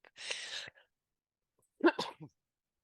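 A single sharp sneeze bursts out close by, then after a pause a voice speaks briefly.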